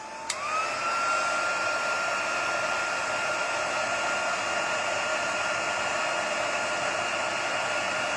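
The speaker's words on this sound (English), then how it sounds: "I wouldn't normally sit here using a heat gun on a live because it's quite noisy" Craft heat gun blowing hot air over small card flowers, a steady loud whine that rises in pitch as it starts, then holds constant and alone throughout.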